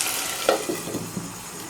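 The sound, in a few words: beef curry with chickpea dal cooking in a covered pot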